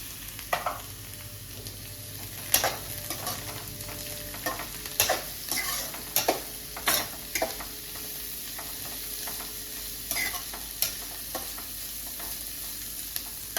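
Green chillies frying and stirred in a pan, with a steady sizzle under repeated sharp scrapes and clinks of a spatula against the pan, close and fairly loud, no talking.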